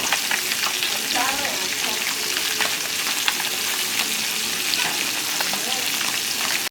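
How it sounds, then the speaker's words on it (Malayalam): Fish fries in hot oil while being flipped, a loud continuous sizzle and crackle with occasional scraping of a utensil, close up and with no talk. "അപ്പോൾ ഗിരീഷേടൻ മീൻ മറിച്ചിട്ടുകൊണ്ടിരിക്കുകയാണ് അല്ലേ"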